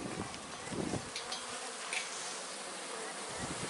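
Honey bees in a hive hum in a dense, continuous buzz, close and steady, with individual bees occasionally flitting past, and no one talking over it.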